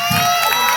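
Audience at a New Year's busker variety show giving a brief, scattered cheer, a burst of crowd voices and whoops heard close and loud for under a second.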